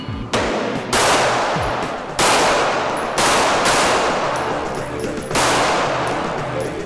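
Five loud pistol shots from a back-up-gun stage at an IDPA nationals match, fired at a moving target array, spaced roughly a second apart, each ringing out sharply with reverberant decay and no talk.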